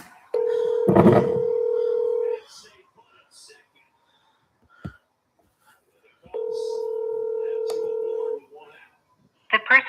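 Telephone dialing with two long steady dial-type tones separated by a pause, a burst of touch-tone beeps over the first, and a faint voice in the background, ending in a short clicky burst.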